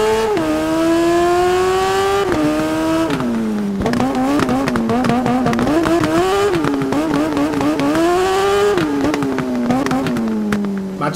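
Racing motorcycle engine screaming at high revs in the TT Isle of Man video game, loud and continuous, with repeated gear shifts marked by sudden pitch drops and climbs, engine alone without talking.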